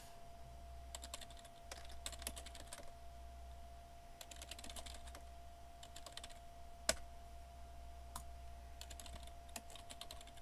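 Clusters of quick key presses on a computer keyboard as miner commands are typed, coming in short bursts separated by pauses, with one sharper keystroke midway, over a quiet low hum and no speech.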